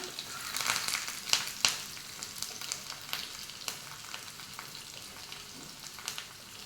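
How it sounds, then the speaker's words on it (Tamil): Small chopped shallots fry in hot oil with mustard seeds, a soft continuous sizzle broken by sharp crackling pops, loudest early on and easing to a gentle steady hiss. "கடுகு போட்டுட்டு சின்ன வெங்காயம் குட்டி குட்டியாக கட் பண்ணி வச்சுருக்கேன், அதை போட்டுக்கலாம்"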